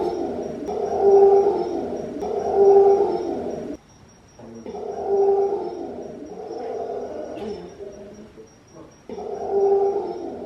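Howler monkeys call in a Costa Rican forest, a series of deep, droning roars repeated in rhythmic bouts with brief pauses, loud and resonant from fairly near.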